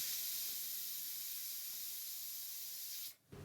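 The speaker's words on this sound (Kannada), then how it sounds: "ಅದಾದ ನಂತರ ಮುಚ್ಚಳ ಮುಚ್ಚಿ 3 ವಿಷಲ್ ಇಲ್ಲಿ ನಾನು ಕೂಗಿಸ್ಕೊಳ್ತಾ ಇದ್ದೀನಿ" A pressure cooker cooking bananas lets off a loud, steady hiss of escaping steam that holds evenly for about three seconds, then cuts off sharply.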